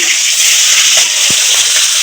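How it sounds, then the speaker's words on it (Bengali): Fish fries in a pan on a home clay stove for a fish curry with ridge gourd and potato, giving a steady, loud, close sizzle with a brief soft knock partway through. "এদিকে মাছ ভাজতে বসিয়ে দিয়েছি মাছটা অল্প উল্টে দেই"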